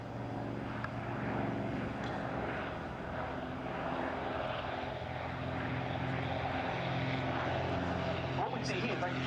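Avro Anson T-21 twin-engine propeller trainer, built in 1950, flying at an airshow at Duxford, with a steady, distant droning hum of its engines under a person speaking.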